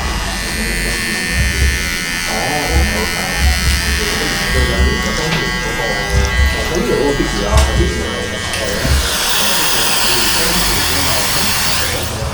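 Barber's electric hair clipper during a dry shave in a Hong Kong salon, a loud close steady buzz running throughout, dipping slightly with each pass, while someone talks over it.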